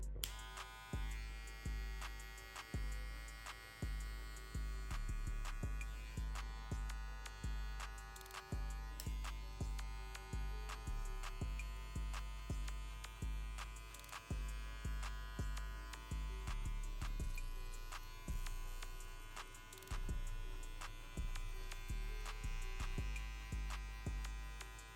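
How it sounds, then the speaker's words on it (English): An electric hair clipper buzzes close up while smoothing the line of a textured crop top fade, its motor hum pulsing in short repeated passes with brief drops between strokes. "Now I'm going to use my clipper just to smoothen out the line I did with the shaver."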